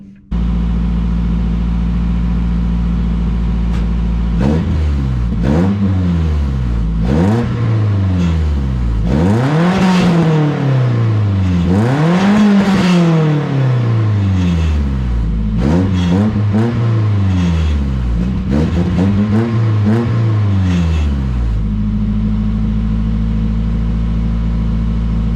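A Nissan Hardbody pickup truck with a new exhaust idles with a deep exhaust rumble, then revs repeatedly, rising and falling in loud throaty bursts before settling back to idle.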